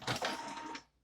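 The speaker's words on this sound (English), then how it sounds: "this printer's going off right while I'm talking" A printer runs briefly, whirring and rattling for under a second before trailing off, fairly close and clear with no voices over it.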